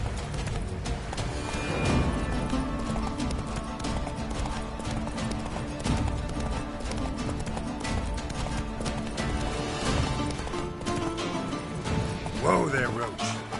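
Hooves of the horse Roach in a video game, a continuous clip-clop of a running horse with rumbling movement and a brief whinny near the end, with a voice talking over it.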